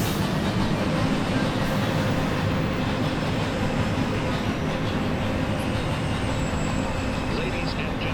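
Subway train with R160A and R179 cars at an elevated or underground station, a steady loud rumble and rolling rail noise filling the whole stretch without pause.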